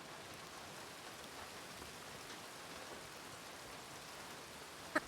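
Steady rain hisses in Red Dead Redemption roleplay, an even, continuous wash of droplets with no talk over it and a single faint click near the end.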